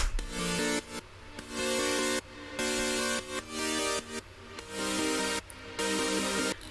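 Bright electronic synth chords in a dance track, stabbing in sustained blocks separated by brief gaps, full and dense across the range, loud with no voices.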